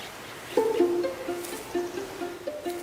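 Several short tonal whistles of forest birds on Guam, some rising and some level, repeat against a soft airy background, fairly close and clear.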